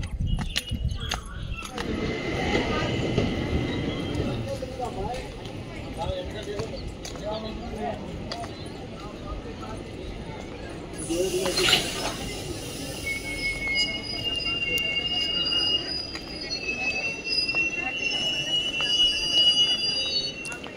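A train rolls through a village railway station with screeching wheels and clattering rail noise, loud and close, with high metallic squeals toward the end and voices talking.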